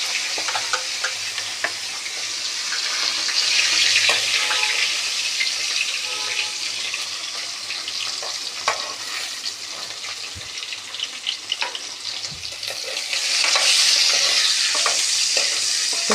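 Salted fish pieces fry in a pan with a continuous, fairly loud sizzle, dotted with stirring clicks and scrapes and swelling louder at the start and end.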